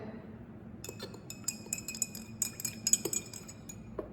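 Teaspoon stirring marbling paint in a cup for floor ebru, giving light, irregular metallic clinks and taps against the cup rim, close and fairly quiet over a low background hum.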